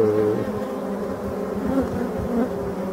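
Black honey bees and drones buzz in a dense, steady drone at a hive in a forest setting, the hum close and continuous with a sustained low tone throughout, no talking.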